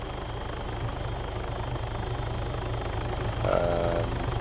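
Low-flying helicopter in the military game Arma 3, a steady deep rotor and engine drone holding close and loud throughout, swelling slightly near the end.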